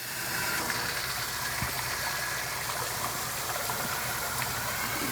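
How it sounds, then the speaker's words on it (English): Faucet running steadily to rinse a newly installed water softener line, a continuous broadband rush of flowing water with a low mechanical hum beneath, close and even throughout. "we'll turn on our faucet and do some additional rinsing there"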